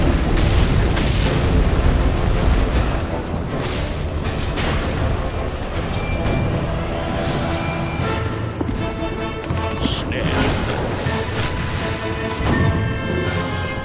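Loud booming explosions from the video game Kameo: Elements of Power, fighting big troll-bots in a lava channel, roll out in dense, continuous blasts layered over game music and effects throughout.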